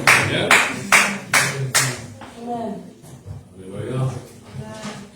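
A church congregation claps during Sunday worship, about five sharp, evenly spaced claps at the start, then fading into a voice talking over a low background.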